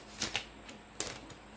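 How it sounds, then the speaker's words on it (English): Tarot cards shuffled by hand during a pick-a-card reading: a few crisp, close riffling flicks, spaced apart, with no voice over them. "I don't know why I shuffled again"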